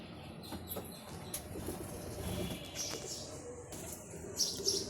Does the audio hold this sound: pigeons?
yes